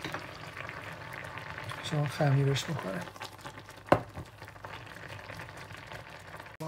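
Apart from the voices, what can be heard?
rice boiling in a pot for tah chin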